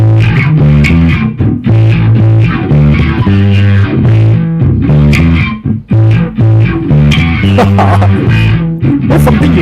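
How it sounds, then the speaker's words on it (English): Distorted electric guitar played through a wah pedal on a metal rig, loud and continuous with sustained chords and sweeping filtered tone, alone without talk. "let's show off the wah for it. Wah with distortion."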